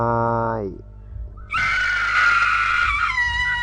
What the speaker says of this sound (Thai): เสียงกรี๊ด